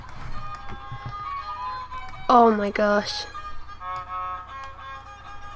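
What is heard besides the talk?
violin music from The Sims 4 video game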